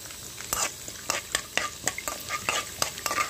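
Leftover oil from frying bajjis heating in a pan before bendakaya fry: close, crackling sizzle with quick bursts of popping and stirring scrapes in an irregular rhythm, no speech.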